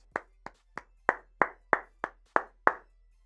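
Nine sharp claps in an uneven rhythm, close and fairly loud, each ringing briefly into the room at a basketball game, with no talk.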